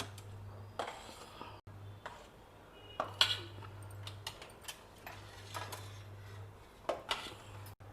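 Utensils clink faintly against the pots inside an opened pressure cooker while cooked items such as Kabuli chana and chana dal are checked, with scattered light taps and a low steady hum underneath.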